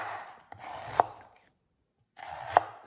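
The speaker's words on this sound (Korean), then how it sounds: "무 생채를 아주 가늘게 썰을 거거든요" A knife slices radish into thin strips for saengchae on a cutting board, giving two short bursts of scraping cuts, each ending in a sharp tap, with a silent gap between them.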